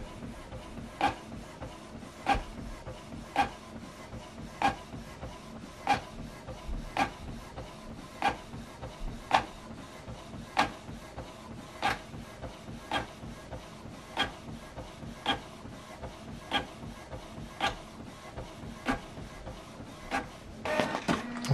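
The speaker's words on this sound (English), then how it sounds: "on the iPad, it will print out straight away" Canon printer printing a document sent from an iPad: a steady mechanical whir with regular sharp clicks about every second, close and continuous throughout.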